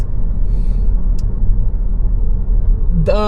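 Low, steady engine and road rumble from a Mazda car cruising on a long drive after a transmission reset, loud and continuous throughout, with a brief voice near the end.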